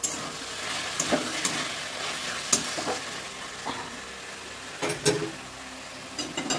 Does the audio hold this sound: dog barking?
no